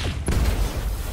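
LRM-20 missile salvo firing in BattleTech, a dense rumbling burst of launches that sweeps in and holds for about a second, close and heavy with no voices.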